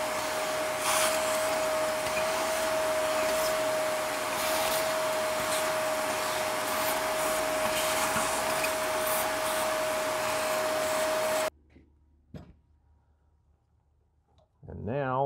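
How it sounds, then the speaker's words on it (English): A shop vacuum cleaner drones steadily for about eleven seconds, close and loud, sucking dirt off the intake manifold of a 2007 Pontiac Solstice engine, then cuts off, leaving faint clicks and handling noises. "We're going to vacuum it off before I actually lift that intake manifold out."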